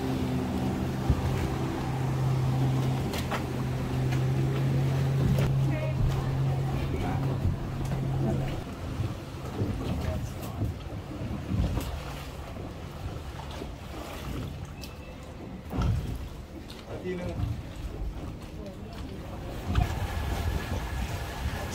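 A free electric canal boat bus in Bangkok, carrying passengers, gives a low hum under water churning and wind, with occasional thumps and clatter aboard. The hum is strongest early on, then gives way to rushing water and louder knocks.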